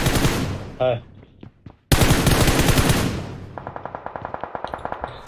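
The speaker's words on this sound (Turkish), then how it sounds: "Bu arada Kaya sıkıyor" PUBG Mobile gunfire: a loud opening burst, scattered single shots, then a heavy volley and a fast, even string of quieter automatic rounds at a distance, with no talk over it.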